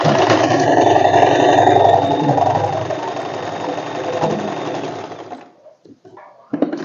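A sewing machine topstitches a straight seam on a fitted sheet, a loud steady motor whir running continuously for about five seconds before stopping, leaving brief faint handling noises.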